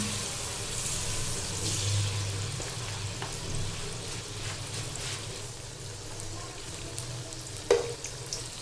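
Gulgule, sweet fried dough balls, frying in hot oil over low heat, giving a steady close sizzle and bubbling with a brief sharper clink near the end.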